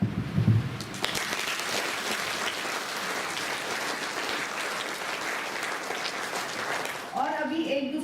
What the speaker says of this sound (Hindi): हाथ ऊपर करके भी तालियां बजाइए।